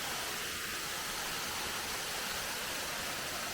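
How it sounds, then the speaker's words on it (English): A waterfall in a Costa Rican national park roars as a steady, dense broadband rush of falling water, constant and unbroken with no voices. "I have made it to the waterfall."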